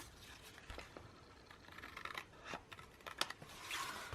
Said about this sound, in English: First let me cut off this one.